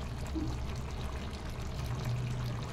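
A little water pours into chicken curry cooking in a pan, a soft continuous splashing trickle, faint and close, with no talking.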